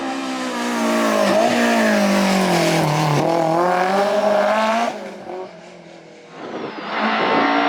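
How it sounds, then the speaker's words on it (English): A BMW M3 historic rally car runs a stage at the Rallye Antibes Côte d'Azur, its engine loud and close, revving and shifting in pitch, dipping briefly before roaring back up. "Jean-Pierre Gatti and Bertrand Chagat try to stay close to the leader, but at the end, take 2nd place in Antibes with their BMW M3."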